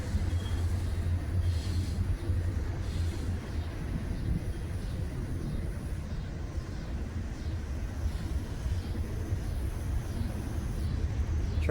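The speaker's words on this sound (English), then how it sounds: "Apologies for the train again." Passing train heard near an old workhouse, a steady low rumble that drifts through the scene at moderate distance, with faint talk in the background.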